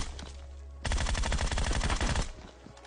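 Rapid automatic fire from the DP light machine gun in the mobile battle royale game PUBG Mobile, a loud sustained burst of about a second and a half that stops sharply, with quieter game ambience before and after.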